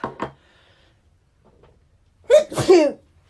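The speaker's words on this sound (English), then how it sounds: "I can feel a sneeze coming" A couple of soft breathy intakes, a pause, then a loud, close double hay fever sneeze.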